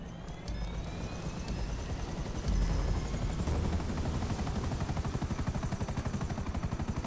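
Helicopter rotor thudding steadily and loudly in the video game GTA, with a rhythmic chop that grows more pronounced toward the end over a broad engine roar; no one talks.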